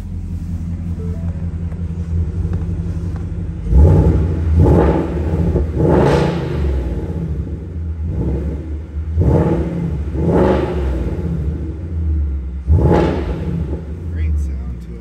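A 2019 Ford Mustang GT Premium convertible's V8 rumbles at a close, loud idle, punctuated by several sharp throttle blips that swell and fall back in a loose rhythm.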